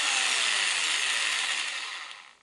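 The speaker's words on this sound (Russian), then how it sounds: "Перфоратор работает." Einhell BBH 850/1 rotary hammer running just after a brush repair, a steady loud high-pitched motor whine that holds for about two seconds and then begins to wind down, with no talking.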